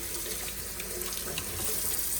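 Tap water runs in a steady, even rush while an AprilAire humidifier water panel is rinsed, with no talking.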